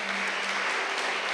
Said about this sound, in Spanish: ¿Le puede dar un aplauso a Él?